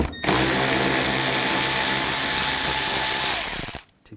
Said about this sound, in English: on the inner fender wells, we're going to take these screws out